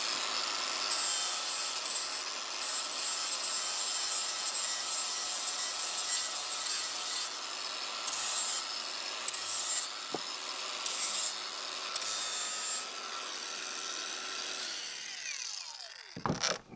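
Bamboo for a New Year kadomatsu is scraped by hand in a rural hillside setting, making a steady, close rasping rub that continues for most of the stretch with brief pauses and no talking.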